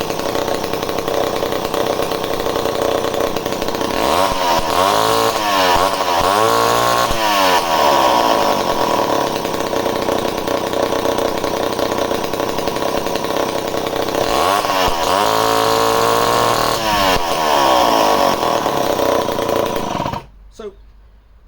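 A vintage Homelite C51 chainsaw runs continuously and loudly up close, its engine buzzing steadily with two bursts of revving that rise and fall, then cuts off abruptly near the end.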